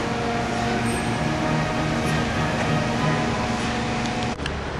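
ACER Supra-1640AHD surface grinder running its rapid crossfeed travel, a steady, continuous mechanical hum with a constant motor drone and faint machine whine, unchanging throughout apart from a brief dip near the end, with no talk.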